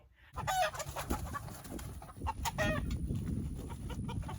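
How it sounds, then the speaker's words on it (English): A rooster crows twice on a homestead, close by, each call a strained, wavering cry over a low rumbling background. "Big old roosters."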